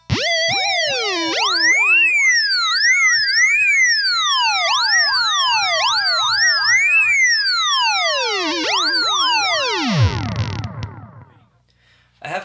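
VVco Theremin guitar pedal run through delay, sweeping pitch glides up and down in repeated swoops with echoing trails stacking behind them, loud and continuous before a sudden low dive and fade near the end.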